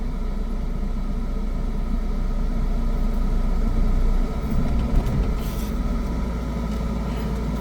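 Steady low car engine rumble as a learner slowly eases out the clutch on an uphill slope, the note holding near-constant with a slight dip and a few faint knocks midway.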